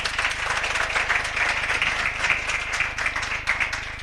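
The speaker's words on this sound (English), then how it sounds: "Can you give yourselves a round of applause?" Crowd applause at a Nelson Mandela Day commemoration in Orange Farm, South Africa, as community volunteers clap for themselves; steady, close, energetic clapping over a low electrical hum.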